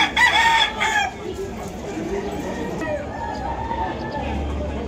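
Rooster, a bull stag, crowing at a busy gamefowl market: a loud crow at the start among other birds' clucks, with people talking and market bustle around it.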